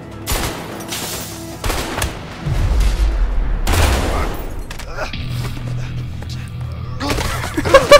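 Heavy gunfire in the video game A Way Out, with loud close bursts and single shots scattered among low booming rumbles, while people talk over parts of it.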